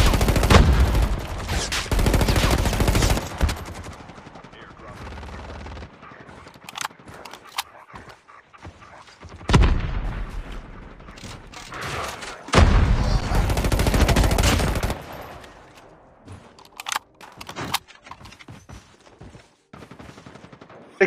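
Call of Duty Mobile gunfire, several loud bursts of rapid shots broken by quieter stretches of scattered single cracks, with someone speaking now and then.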